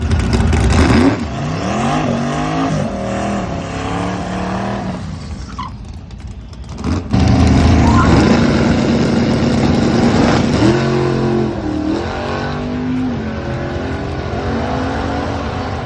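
A drag race car making a pass down the track, with a loud engine revving through rising gear-change sweeps, a brief drop-off mid-run, then a strong sustained roar, close and loud, with no talking.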